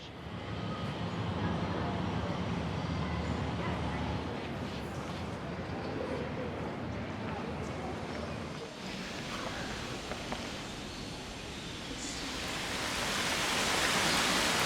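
A steady Sierra Nevada outdoor soundscape of broad rushing noise, like flowing water or wind, continuous and moderately quiet, swelling slightly toward the end.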